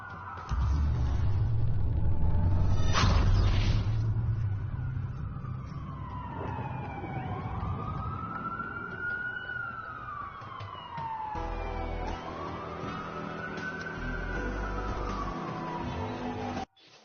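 A police siren in the video game Watch Dogs wails up and down over a deep engine rumble, its pitch sweeping in long slow arcs, loud and continuous throughout.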